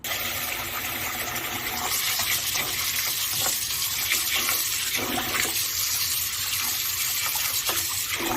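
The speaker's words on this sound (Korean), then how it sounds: "일반 쌀 3컵, 찹쌀 1컵을 섞어서 쌀을 씻어주도록 할게요." Water runs steadily and splashes as white rice mixed with glutinous rice is swished and rinsed, a continuous close hiss with slight shifts in texture, no talking.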